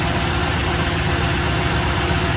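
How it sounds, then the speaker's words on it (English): A 2007-2009 Toyota Tundra engine idles with its power steering pump running, a loud, steady low hum and vibration heard alone at close range without variation. "You can hear the engine running. The pump is going."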